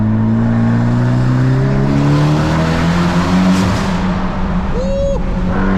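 A Mitsubishi Evo X with a turbo engine accelerates hard through a tunnel. The engine roars loudly, its pitch rising through the gears, and the tunnel adds a reverberant wash, with a brief whistle-like tone near the end.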